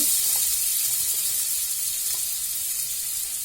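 Butter sizzling in a hot kadhai for paneer butter masala, a close, steady hiss that stays even and unbroken throughout, with no voices.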